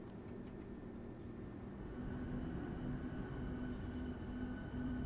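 A subway train in the game SubwaySim 2 hums with a low, steady rumble and faint whine, getting slightly louder partway through, with a few soft ticks early on and no talk.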